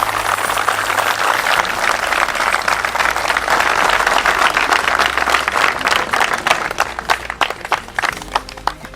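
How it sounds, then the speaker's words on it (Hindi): Audience applause at an Indian Army event, the 1 Signal Training Centre in Jabalpur, a dense steady burst of clapping that thins into scattered separate claps near the end. "बहुत जोर से तालियां यार इन सब लोगों के लिए"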